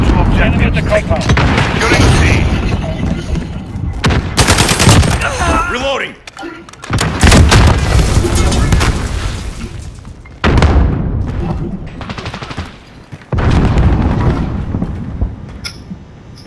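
Repeated booming grenade explosions in a video game firefight, heavy thuds mixed with gunfire, loud and close, with short lulls between blasts.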